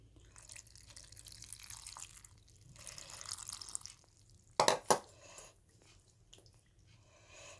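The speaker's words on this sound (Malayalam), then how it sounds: "വെള്ളം ഒഴിച്ചു കൊടുക്കാം" Water pours and splashes steadily into a vessel of dried Byadgi chillies, followed by two sharp clinks and a few faint drips.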